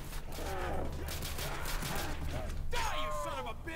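G3 rifle fire in a Call of Duty custom zombies map: clattering mechanical shots and rattles sit under someone talking, with a sharper burst near the end.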